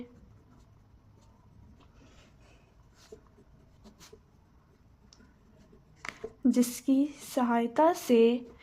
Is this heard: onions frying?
no